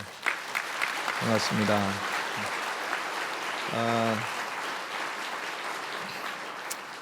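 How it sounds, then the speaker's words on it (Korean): A church congregation applauds in welcome, a steady wash of clapping running throughout as someone speaks briefly over it. "잠깐 자리에서 일어나시면 우리가 박수로 환영하겠습니다"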